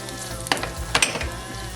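Garlic sizzling in a pan with bay leaf and peppercorns, a soft steady fry punctuated by a couple of brief scraping stirs, quiet and close with no voices.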